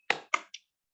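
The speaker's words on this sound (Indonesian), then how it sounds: "ayo seperti biasa kita akan tepuk semangat" A classroom's rhythmic 'tepuk semangat' clap gives three sharp, close claps in quick succession, each stopping cleanly with silence between. The third clap is softer, and quiet follows.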